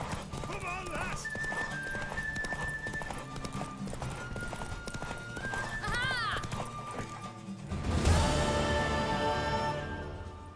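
A horse gallops with rhythmic hoofbeats and gives whinnies during a race in The Witcher 3 on PC, over game music, and characters speak at times above the galloping.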